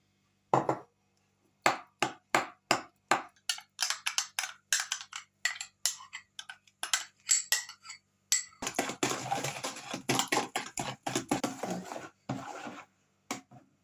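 Spoon clinking and scraping against a bowl while sour cream is stirred into butter, a steady run of sharp taps that turns into denser, rapid scraping toward the end, close and alone.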